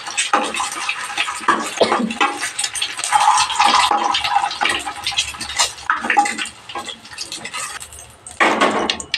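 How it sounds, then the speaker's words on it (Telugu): Eggs fry lightly in oil in a pan, giving a loud, close, broadband sizzle with bursts of scraping and spattering that rise and fall, with no talking. "ఎగ్స్ ఇలాగా లైట్గా ఫ్రై అయితే చాలు"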